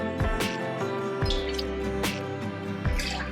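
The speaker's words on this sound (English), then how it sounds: "We will be pouring 2 ounces of orange juice into the shaker." Two ounces of orange juice pour into a cocktail shaker for a Madras cocktail, with close, wet dripping and splashing and several distinct splats over a steady liquid trickle.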